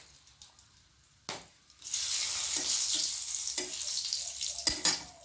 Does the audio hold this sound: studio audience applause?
no